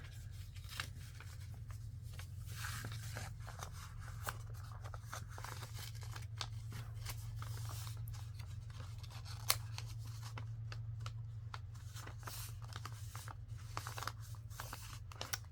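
Paper being folded and creased by hand for a large tea bag journal page, a steady run of soft crinkles, rustles and taps close by, with a low hum underneath throughout.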